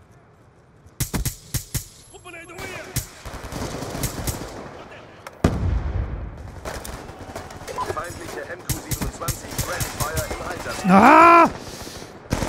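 Rapid bursts of automatic gunfire in a Call of Duty: Black Ops II multiplayer match, sharp cracks in clusters with game effects and a player's voice talking over the shooting.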